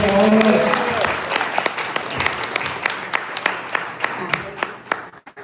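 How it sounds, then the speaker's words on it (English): An audience at a live pitch event in Detroit claps for a presenter, dense applause that thins into scattered individual claps as it fades over several seconds, with brief talk early on. "Let's give Karmen a round of applause"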